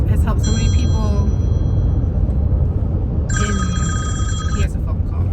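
Two bursts of an electronic telephone ring, trilling warbles separated by a pause, sounding over a constant low rumble with people talking.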